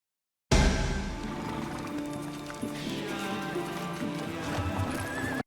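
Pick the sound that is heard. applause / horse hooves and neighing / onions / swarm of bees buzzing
horse hooves and neighing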